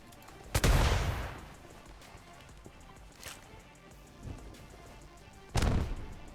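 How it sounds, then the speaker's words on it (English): A green flare fires in a Royal Navy roleplay game, heard as a sharp booming blast, a couple of fainter distant thuds, then a second loud blast, with gunfire-like rumble trailing each. "Green flare firing"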